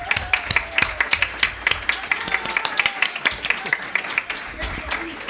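Audience clapping for a guest at a live podcast recording at a gaming podcast congress, with crisp individual claps over a crowd wash and voices murmuring underneath.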